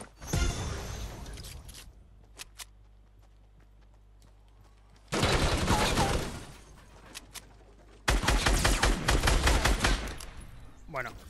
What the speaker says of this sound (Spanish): Y acá están cagando tiros a alguien